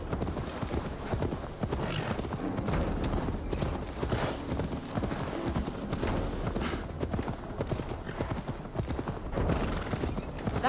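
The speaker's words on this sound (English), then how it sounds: "Now to deliver Magni his horse." Horse hooves clip-clop rapidly in the Assassin's Creed Valhalla video game, a dense galloping rhythm with occasional whinnies, loud and close amid busy game sounds and some voices.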